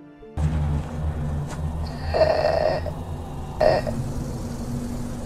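A snore-like death rattle from a dying woman in the horror film Downrange, rough rasping breaths swelling twice over a steady low hum, fairly close and without speech.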